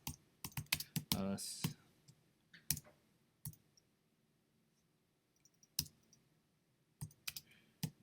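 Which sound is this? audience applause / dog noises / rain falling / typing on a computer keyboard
typing on a computer keyboard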